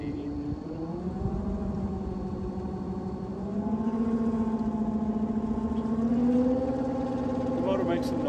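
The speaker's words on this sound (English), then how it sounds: "The motor makes some noise, a little whirring noise." Boat propulsion motor engaged for slow reverse or forward speed, a steady low whirring hum that rises slightly in pitch partway through, heard close with a voice talking over it.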